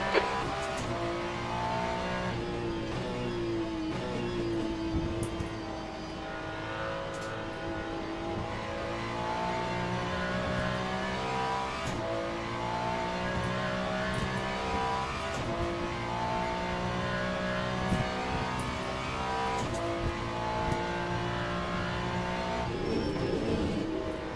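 A Ferrari race car in the Le Mans Ultimate sim roars around bumpy Sebring during a multiclass multiplayer race, its engine note climbing and falling steadily through gear changes with occasional tire squeal, loud and continuous with no talk.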